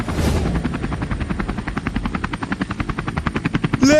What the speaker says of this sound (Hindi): ये हेलीकॉप्टर उल्टा उड़ रहा है